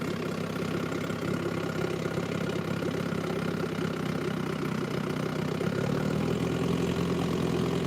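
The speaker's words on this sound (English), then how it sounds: "or is the motor too loud?" A boat's outboard motor runs steadily on a river in the rain, a continuous close mid-pitched drone with a slight rise in pitch and intensity toward the end, no voices over it.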